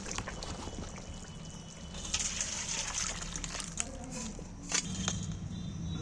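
Fish curry gravy with potato and green banana being poured from a pan, a steady close liquid splash and trickle with a few metallic clinks from the vessel.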